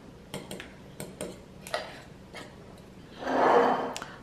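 A whisk beats eggs seasoned with sea salt and black pepper, starting as scattered light ticks against the bowl and building to a brief busier stretch of rapid scraping near the end, with no speech.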